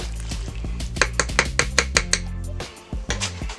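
Shredded white and dark chicken meat stirred in a pressure cooker pot: a series of rhythmic scraping clacks of a utensil against the pot, close and fairly loud, over background music.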